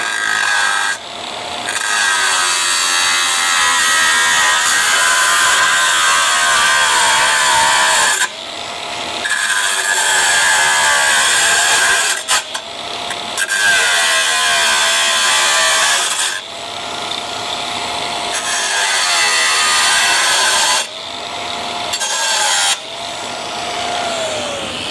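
A power tool cuts away the rubbing section on a lifted Roadmaster wagon, a loud steady grinding whine running in long bursts broken by short pauses.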